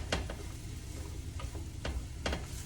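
Mushrooms being stirred in a fairly dry pan for beef and mushroom stroganoff give quiet scraping clicks at an uneven pace over a low background hum, with only a faint sizzle. No voices.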